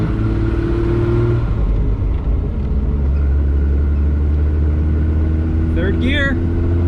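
A Triumph TR6 sports car engine drones loud and close in a steady low rumble while driving on the road, shifting through gears, with a brief voice near the end.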